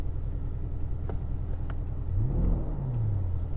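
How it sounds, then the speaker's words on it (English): A deep, throaty engine rumble from a 2018 Porsche Panamera Turbo S E-Hybrid in sport mode idles close by, swelling briefly as the revs rise and then settling back down. "yep, there's the engine."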